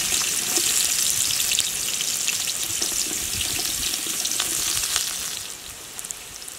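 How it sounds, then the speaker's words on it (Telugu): Chopped onion sizzles steadily in hot oil in a village kitchen, a loud, bright crackling hiss that eases slightly near the end. "ఆయిల్ వేడెక్కింది, ఆనియన్ వేసుకున్నాము."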